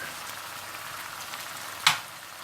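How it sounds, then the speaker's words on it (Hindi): Crushed roasted cumin and crushed roasted coriander fry in a pan with tomatoes, ginger and garlic for an adrak chicken curry, a steady close sizzle with one sharp brief spit or clatter near the end, no talk. "कुटा हुआ और भुना हुआ जीरा, कुटा हुआ भुना हुआ धनिया डालकर अच्छी तरह से भून लें"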